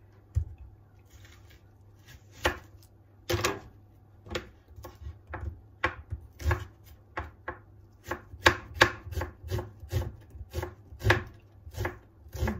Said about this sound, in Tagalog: medyo hindi masyadong malalaki ang pagkahiwa ng sibuyas.